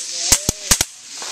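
A firework inside a toy baby dragon goes off in four sharp, loud pops arranged as two quick pairs, each a crackling burst close by, with a faint voice briefly underneath.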